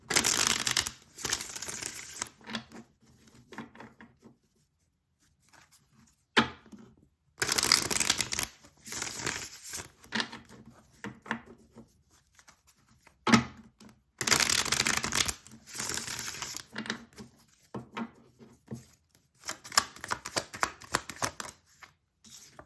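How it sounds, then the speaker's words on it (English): Tarot cards shuffled by hand in several bursts of riffling and crisp flicking, separated by quiet pauses, close and fairly soft, with no talking. "I'm going to do a couple shuffles."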